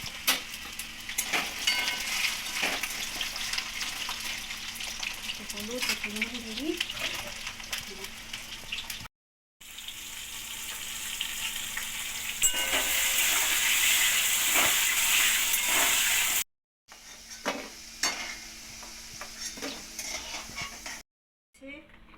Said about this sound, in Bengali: প্রথমে আলু তারপরে লাউ আলু ভাজা তারপরে লাউ